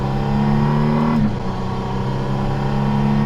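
A one-off Praga hypercar prototype engine revs hard on a test track, a loud sustained mechanical roar with a brief pitch dip midway before climbing again, and no talking.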